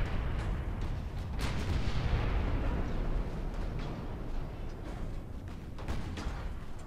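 Naval warship guns firing in the video game Ultimate Admiral Dreadnoughts, a dense, continuous rumble of booming artillery with scattered sharper blasts, loud and sustained without pause.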